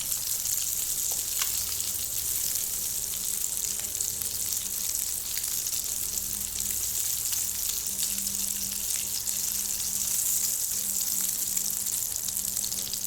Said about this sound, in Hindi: सब तरफ से आपने इनको फ्राई करना है घुमा घुमा के।